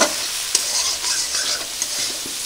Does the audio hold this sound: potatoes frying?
yes